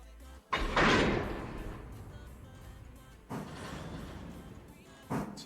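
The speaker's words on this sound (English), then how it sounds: "So you can hear the, the chain of the cars being pushed there." Railroad cars being pushed in the Railroader train game, with a sharp metallic clank and rattle of coupling chains followed by rumbling rolling noise, then two more clanks, close and fairly loud.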